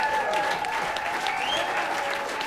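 Concert audience at a music series event giving a sustained round of applause, dense and even for the whole stretch, with faint whoops or tones riding over the clapping.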